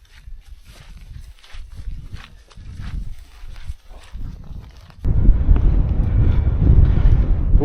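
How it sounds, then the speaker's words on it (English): Wind gusting across a hillside in the Lake District, with soft thuds and rustles up close before a strong, roaring buffet of wind hits the microphone and keeps blowing to the end. "That wind's picked up."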